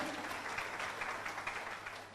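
Audience applause at a motivational success seminar, a steady dense wash of clapping sustained throughout without any talk.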